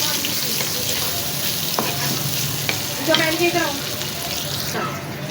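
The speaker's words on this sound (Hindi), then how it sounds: "अब इसमें प्याज को ब्राउन करेंगे।" Onions sizzle and crackle in hot oil, a steady frying hiss with occasional stirring scrapes, close by and moderately loud.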